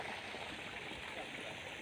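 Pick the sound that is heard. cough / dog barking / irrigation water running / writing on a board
irrigation water running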